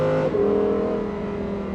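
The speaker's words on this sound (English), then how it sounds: "All you get is engine noise." Lamborghini engine (R8/Gallardo/Huracan family) revving with exhaust valves closed: a brief, close rev whose tone drops then settles into a steady, moderately loud engine hum.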